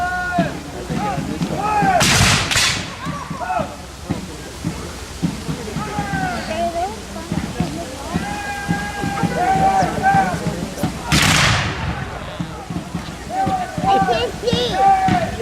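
Civil War reenactors fire muskets and artillery at a weekend event at a grange, with two loud blasts well apart and scattered shots, while a crowd murmurs and talks throughout.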